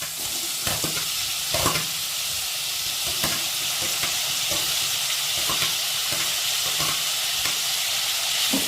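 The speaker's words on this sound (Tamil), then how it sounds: "இப்போ நம்ம எடுத்து வச்சுருக்க தக்காளியை போட்டுடலாம்" Tomatoes sauté in a pan for red cabbage rice, giving an even, continuous sizzle broken by regular clicking and scraping as the mixture is stirred.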